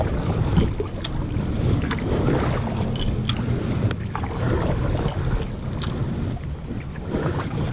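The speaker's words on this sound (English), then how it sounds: "I hear a boat coming up behind me." A motorboat approaching from behind on Lake Hickory, North Carolina, roars loudly and steadily over rushing water and wind buffeting, a continuous dense drone with no voices.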